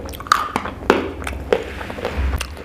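Crunchy food being bitten and chewed, a handful of sharp crisp crunches spaced irregularly over a low background, close to the microphone.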